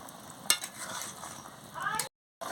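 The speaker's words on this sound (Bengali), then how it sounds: "কি সুন্দর ফুটছে দেখুন" Jackfruit curry bubbles and sizzles in a pot on the stove after water is added, a steady close simmer with a sharp utensil clank near the start and a brief cut to silence near the end.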